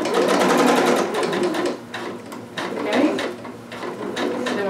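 Sewing machine stitching a Vogue 2530 garment, a rapid mechanical needle chatter in close bursts with short pauses and slight speed changes between runs.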